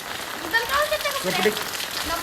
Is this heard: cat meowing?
no